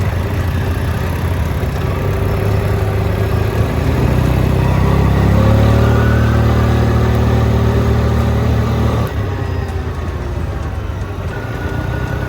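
A 300cc Linhall four-wheeler engine revs hard, its pitch climbing and holding high through the middle before dropping back toward a steady idle near the end. The engine is close and loud, with no one talking.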